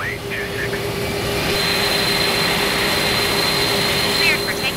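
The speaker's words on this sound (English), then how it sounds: "Cleared for takeoff runway 26, Airbus 310." An Airbus 310 jet spools up for takeoff on runway 26 in Microsoft Flight Simulator, a loud steady roar of engine noise with a high whine, under radio-style talk throughout.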